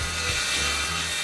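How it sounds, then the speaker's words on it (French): A circular saw cutting a wooden parquet wall panel board, a steady, loud, high whining buzz that holds evenly throughout, close up and with no talk. "Utilisez de préférence une scie circulaire."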